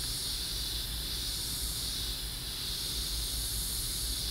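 An airbrush spraying transparent paint gives a steady, continuous airy hiss at close range, even and unbroken, with no talk over it.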